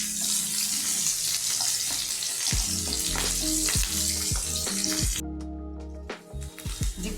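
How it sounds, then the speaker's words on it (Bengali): Onions with chopped garlic fry in oil for dal tarka, a loud continuous sizzle with occasional stirring scrapes of a utensil in the pan, the hiss dropping away near the end as a few clinks follow. "পেঁয়াজটা একটু ভাজা ভাজা হোক।"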